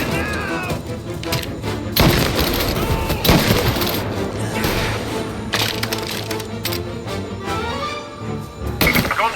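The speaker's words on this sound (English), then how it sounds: "Gunshots heard." Repeated bursts of gunfire crackle and thump in irregular volleys during a shootout in the video game Mafia: Definitive Edition, loud and close throughout.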